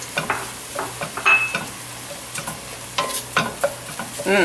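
Plain breadcrumbs and fresh chopped parsley are stirred into a mushroom stuffing mixture, giving soft repeated scraping and stirring strokes against the bowl with occasional light clicks, close and fairly quiet.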